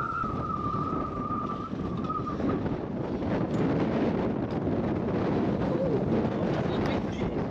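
Strong wind on a boat trip near Schiermonnikoog buffets the microphone with a constant rough roar and rumble. A thin whistling tone is heard briefly at the start.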